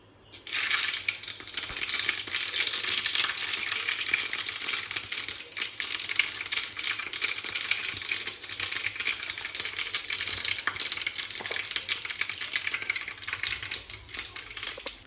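Mustard seeds and cumin crackling and sizzling in hot oil as a tempering for dhokla, a dense, steady spattering that runs unbroken for about fifteen seconds with no talking.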